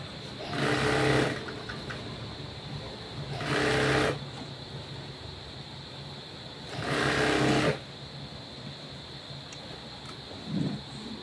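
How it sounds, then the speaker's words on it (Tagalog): A sewing machine stitching in three bursts of fast, whirring mechanical rattle, each lasting a second or more with quiet pauses between, close and clear. "Habang nagtatahi."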